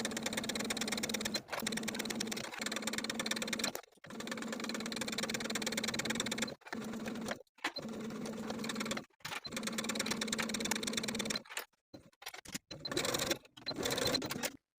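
A sewing machine runs edge stitching along the folded neckline edges of a blouse, loud and close, whirring in steady bursts of a few seconds each, broken by short pauses as the fabric is turned.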